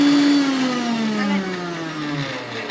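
An electric mixer grinder whirs loudly and steadily through a chutney of onion, mango, salt and chili, its motor pitch sliding gradually lower as it runs, with no voices.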